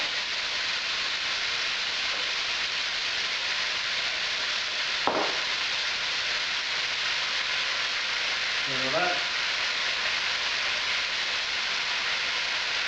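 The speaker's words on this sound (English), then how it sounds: "I want that meat to brown" Mince meat browning in a pan for Texas cowboy chili, a constant even sizzle close by, with one sharp scrape or knock midway and a brief voice later.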